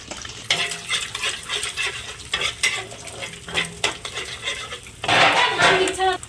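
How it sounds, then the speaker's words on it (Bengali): Eggs frying in hot oil in a pan for a breakfast curry served with flatbread, with crackling sizzle, repeated clinks and scrapes of a utensil against the pan, and a louder burst of spattering toward the end. "ডিমগুলা একটু ভেজে নেবো ডিমের মধ্যে দেবো প্রথমে তেল দিয়েছিল এখন ডিম দিলাম"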